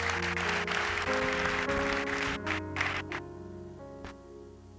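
A church congregation applauds loudly for the King of Glory during a Spanish-language sermon on the Holy Spirit, dense sustained clapping under organ or keyboard chords that thins toward the end.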